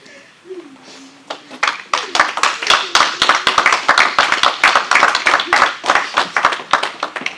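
Rhythmic clapping from a crowd of mourners at a funeral in Paris, many hands beating in steady unison, loud and close, with a voice speaking over the start before the clapping builds.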